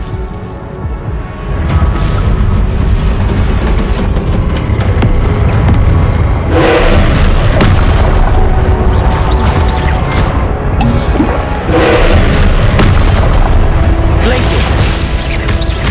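Fire spell explosions and combat blasts from the Hogwarts Legacy video game burst repeatedly amid a dense, loud wash of game effects, with a voice shouting spell names over the din.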